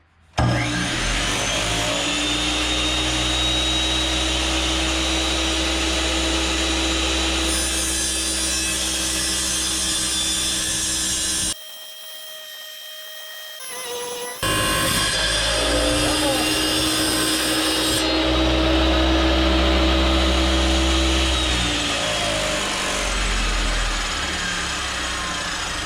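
A tile saw grinds through a chunk of granite rock, a loud steady wet whine and rasp that drops out briefly midway, then resumes as the blade bites back in; voices are present at points.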